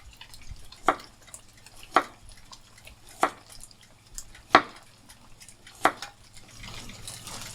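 A carrot sliced at an angle with a knife on a cutting board, five sharp evenly spaced chops standing out clearly over a low steady background hum.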